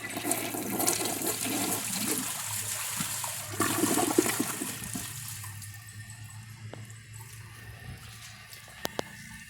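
A 2008 Mansfield Alto toilet flushes a washcloth down, a loud rushing gush of water that fades into a quieter trickle and refill, with a couple of faint clicks near the end.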